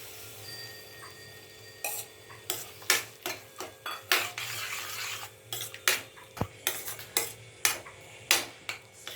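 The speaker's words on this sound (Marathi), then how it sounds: "सारखं हलवून घेऊया, व्यवस्थित परतून घेऊया।" A spatula stirs egg bhurji with spices in a pan, making irregular, fairly quiet clacks and scrapes against the metal that come in uneven bursts with no talking.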